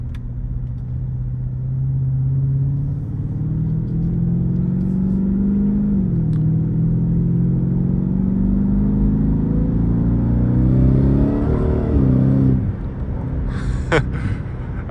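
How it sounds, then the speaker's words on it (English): A Ford F-150 Raptor R pickup with a 10-speed transmission accelerates hard, its engine drone climbing steadily in pitch and briefly dipping at gear shifts, loud and close from inside the cab with no talking. "It still accelerates pretty well."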